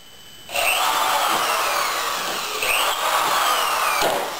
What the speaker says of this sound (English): So it's drill the holes along the top edge only.